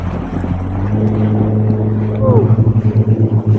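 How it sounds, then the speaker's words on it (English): A motorboat engine on a lake drones low and steady, then pulses rhythmically as it throttles up, with wind buffeting the microphone throughout. "There goes the boat."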